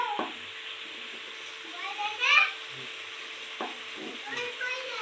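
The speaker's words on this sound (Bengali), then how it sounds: "পেঁপেটা দিয়ে একটু কষাবো" Duck meat stir-fried with cut papaya in a pan, with soft steady sizzling and a few scraping stir strokes, one louder burst of clatter midway, fairly close.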